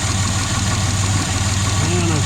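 Warm Jaguar S-Type engine idling steadily up close, a loud, even mechanical hum with a constant low throb and no change in revs.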